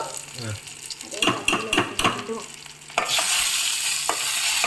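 Mustard seeds, cumin, curry leaves and dried red chillies fry in hot oil for sambar, a close crackling sizzle broken by sharp clatters and stirring knocks, then a broader steady hiss taking over near the end.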